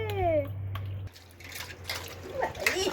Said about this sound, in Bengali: মাম্মা এখন স্নান করে নিচ্ছে।